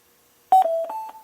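A Bluetooth speaker chimes as it connects to a phone, playing a short rising sequence of clear electronic tones at moderate loudness, alone in a quiet room.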